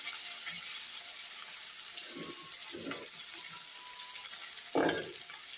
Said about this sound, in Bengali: এই তো মাছটা আমি ভালোভাবে ভেজে নিতেছি